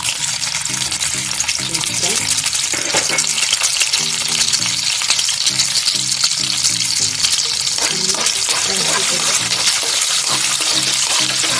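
Ingredients frying in hot oil in a home kitchen pan give a loud, continuous crackling sizzle, with repeated stirring scrapes breaking through the steady hiss.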